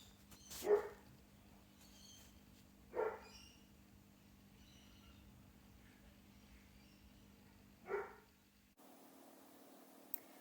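A dog barks three times in a backyard, single sharp barks spaced a few seconds apart, heard at a moderate distance over a steady low hum.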